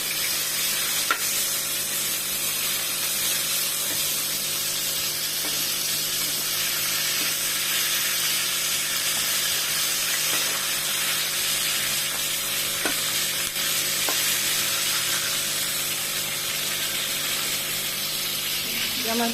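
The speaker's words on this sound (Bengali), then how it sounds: "সাবধানে যেই ভাজেন না কেন খুব সাবধানে পাঙ্গাস মাছটা ভাজার চেষ্টা করবেন।" Pangas fish fries in a pan with a loud, continuous hissing sizzle and occasional sharp pops, close and unbroken throughout.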